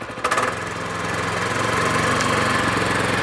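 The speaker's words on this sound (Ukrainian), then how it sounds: "закрив заслонку, завів. Як ви чуєте, вже трохи по-інакшому відгукується двигун." A walk-behind tractor's small engine runs steadily at close range with its choke closed, a low, even chugging drone that settles into a constant idle with no voices.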